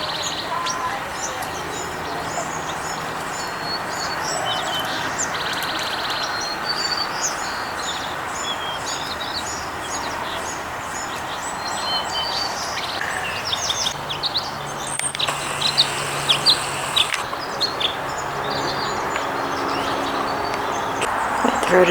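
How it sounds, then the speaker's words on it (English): A white-throated sparrow sings among other songbirds in a park, a steady outdoor chorus of chirps and whistled phrases throughout, moderately close with background hiss. "White-throated Sparrow."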